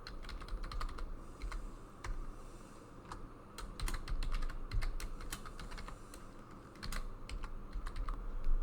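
A password is typed on a computer keyboard, with close, rapid clicking keystrokes arriving in uneven bursts over a low background hum, no voices present.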